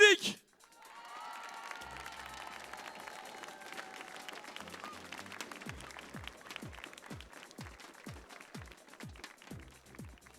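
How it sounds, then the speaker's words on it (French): Stadium crowd at a France versus Japan blind football match cheers and applauds as the teams walk out, a moderate, fairly distant wash of clapping with sharp percussive taps and a few whistles. "L'entrée des équipes, c'est maintenant du bruit, Chilik!"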